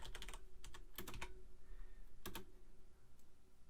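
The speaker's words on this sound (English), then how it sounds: "I won't make you watch typing in all of these names and descriptions" Quick, uneven bursts of keystrokes on a computer keyboard as names and descriptions are entered into Python code, close and fairly quiet, with short pauses between runs of clicks.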